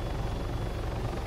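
A helicopter flies in Arma 3, a dense, steady low rotor thrum and engine roar filling the cabin, loud and continuous with no voices.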